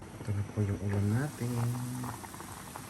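Chicken tinola soup with papaya bubbles in a clay pot, a soft simmering hiss heard beneath a person speaking close by.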